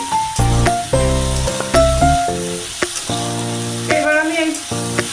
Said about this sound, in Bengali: এবার আমি এই আলুটা পেঁয়াজটা খুব ভালো করে ভেজে নেব।